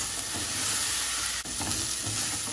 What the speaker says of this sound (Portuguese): já podemos acrescentar aqui a ervilha em lascas